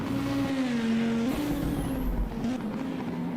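A five-cylinder Tatuus race car engine at a European Hill Climb Championship round revving with a raspy, droning note that rises and falls, loud and close, over a rumbling low end.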